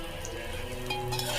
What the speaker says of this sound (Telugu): పచ్చిమిర్చి, నెక్స్ట్ పచ్చిశనగపప్పు, ధనియాలు, మినపప్పు, జీలకర్ర ఇవన్నీ వేసి బాగా వేగనివ్వాలి.